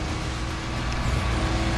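A truck in the racing video game Split Second drives with a loud, continuous engine drone and rumble, steady and close, without talk over it.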